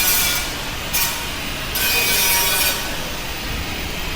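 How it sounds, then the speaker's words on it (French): An angle grinder cutting through a PC case in a modding workshop at an event in Taiwan, giving a continuous loud, harsh grinding rush that surges twice. "Donc on a des choses un peu violentes hein, avec la meuleuse carrément."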